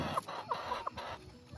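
Backyard garden chickens cluck nearby in a short run of three or four sharp, evenly spaced clucks over a faint background hum, with no talk.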